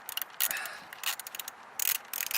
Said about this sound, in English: I'm just tightening things up right here. Tighten that up. Tighten this one up.